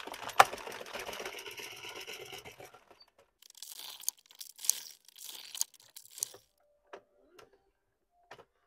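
A circular knitting machine knitting across rows of a toy chicken: about three seconds of steady rattling whir, then scattered sharp clicks and ticks with pauses between them, close by and with no talk.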